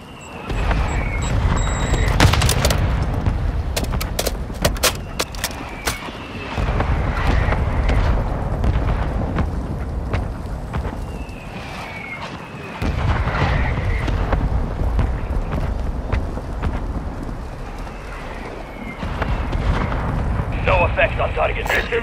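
Heavy booming airstrike explosions and crackling gunfire in Call of Duty Warzone 2, loud and sustained in rolling waves, with voices speaking over the battle at times.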